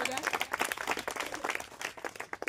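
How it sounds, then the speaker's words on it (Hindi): An audience at a student award ceremony at an education centre claps hard for a pupil, a dense, steady patter of many hands that stays loud and even throughout. "इसके लिए एक बार जोरदार तालियां हो जाए।"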